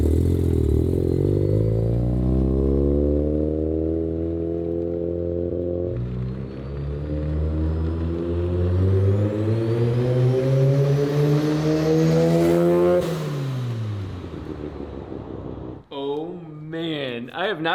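A Mazda FC rotary-engined car, just revived after sitting for 15 years, revs at zero pounds of boost: a loud, close engine climbing and falling through long sweeping pulls before dropping away as talk breaks in.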